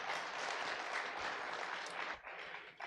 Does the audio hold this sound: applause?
yes